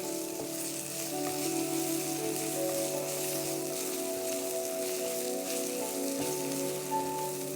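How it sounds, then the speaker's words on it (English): Onion and ginger paste sizzling steadily in hot oil over a medium flame, a continuous crackling fry with faint spatters, heard alone without any voices, during preparation of a Bengali fish stew. "We will fry the onion at a medium flame till the oil starts separating"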